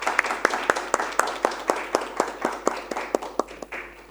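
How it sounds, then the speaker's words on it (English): At a climate enterprise panel event, a small audience welcomes the panelists with sparse, distinct hand claps in a loose, steady rhythm, fairly close and moderately quiet. "Please join me all in welcoming the panelists with a warm round of applause"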